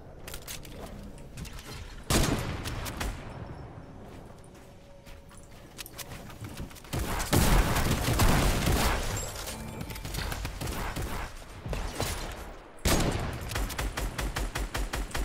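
Bursts of Fortnite gunfire with rapid repeated shots come in several loud volleys between quieter stretches, along with scattered mechanical clatter. There is no speech.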